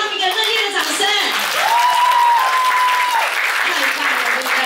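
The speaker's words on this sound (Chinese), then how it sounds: "要不要再给他们一个热烈的掌声？" An audience at a company party claps together in sustained, dense applause that fills the room, while a speaker's voice carries on over the clapping.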